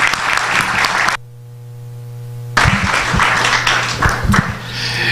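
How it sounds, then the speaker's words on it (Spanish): Audience applauding a doctor at a university lecture on constitutionalism, a dense wash of clapping interrupted by a steady electronic tone and a brief silent gap, then the applause resumes. "Brindémosle un caluroso aplauso al doctor"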